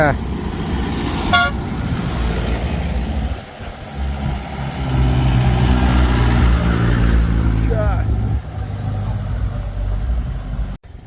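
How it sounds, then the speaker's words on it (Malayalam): A truck rolls past on a hill road near Sooryanelli, its engine rumbling and its horn tooting a couple of times. Someone talks over it while walking outdoors. "ഒരു ട്രക്ക്"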